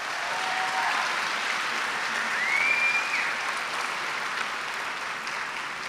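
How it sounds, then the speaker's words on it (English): Sustained applause from a commencement crowd honoring graduates, a steady dense wash of clapping lasting throughout at even volume, with a faint whistle briefly rising over it. "Please give them a round of applause."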